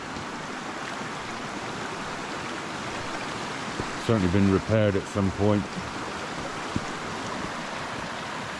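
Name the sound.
river flowing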